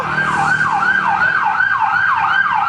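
A fire truck's wailing siren rises and falls in a steady repeating cycle, loud and close, over a low rumble of traffic, arriving at a fire.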